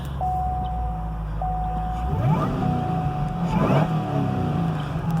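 2011 Cadillac CTS-V Coupe, a salvage car, with its warning chime pinging before the starter cranks and the engine fires with a brief rev, then settles into a steady low idle, close and alone.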